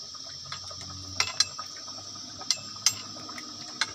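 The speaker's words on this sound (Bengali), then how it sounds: "আমাদের মাছ ভাজা শুরু হয়ে গেছে, দেখুন গাইস।" Turmeric-coated fish frying in a pan on a home stove, giving a steady close sizzle with a few sharp oil pops and crackles scattered through.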